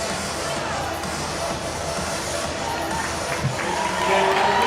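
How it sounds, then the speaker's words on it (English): A women's basketball crowd at a Duke versus North Carolina game gives a warm round of applause, a dense sustained wash of clapping and murmur that swells slightly at the end. "The Duke faithful that made the trip over gave her a little round of applause."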